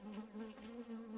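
Honey bees buzzing at a hive, a steady close droning hum with a clear pitched tone, fairly faint and continuous with no talking.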